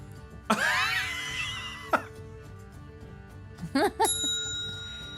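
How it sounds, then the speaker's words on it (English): A small bell is struck, giving a sharp ringing hit that decays, then a second fainter tap and a cluster of further rings near the end, with quiet room noise between. "Every time I hit the bell"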